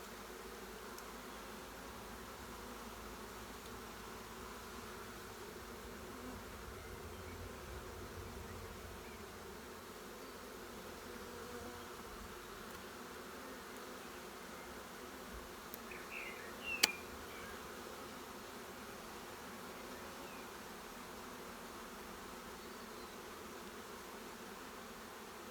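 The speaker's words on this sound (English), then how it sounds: "Bees in the veil." A swarm of honeybees drones in a continuous, even buzz, close and steady for the whole stretch, with a single brief sharp knock partway through and no talking.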